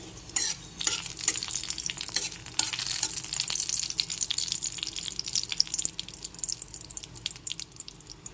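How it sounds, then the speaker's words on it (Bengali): A dried red chilli and panch phoron crackle and sizzle in hot oil while being stirred for raw mango chutney, with a dense, fairly loud frying hiss and quick spoon scrapes. "একটা শুকনো লঙ্কা আর একটু সামান্য পরিমাণ পাঁচ ফোড়ন হাফ স্পুন মতো এবার একটু নেড়ে চেড়ে ফোড়নটাকে ভেজে নিতে হবে"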